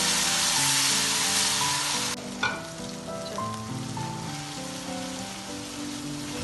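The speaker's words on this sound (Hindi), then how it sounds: "इसको मैं थोड़ा सा भूनने लगी हूँ।" Loud hiss of garlic-ginger paste frying in hot oil that abruptly quiets, followed by a clink and softer sizzling with occasional stirring.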